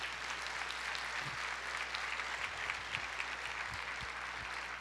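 A church congregation applauds the Lord during a Portuguese-language sermon, giving steady, moderately distant clapping with a constant low hum underneath and a few scattered louder claps.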